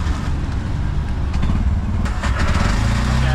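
A motorcycle engine running loud and close in Cambodia, a steady rough idle with a few revs, and no clear talk over it.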